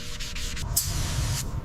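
Body filler being sanded by hand on a Porsche body, a steady close rasping rub with short strokes, loud and continuous with no talking.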